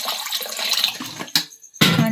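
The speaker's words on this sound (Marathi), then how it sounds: "कढईमध्ये आता पाणी टाकू" Water pours into a kadhai for washing cut sea clams in a village kitchen, a rushing splash that breaks off briefly and then resumes strongly, close by with no voices.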